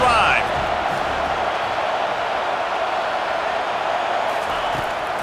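Stadium crowd roaring continuously in College Football 25 during a Texas Tech at TCU game, a loud, steady wash of cheering with a brief whistle-like tone at the start, under a game commentator's voice.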